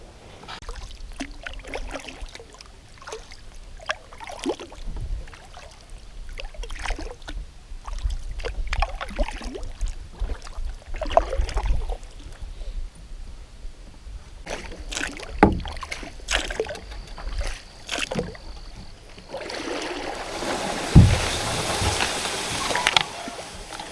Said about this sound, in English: we're just gonna paddle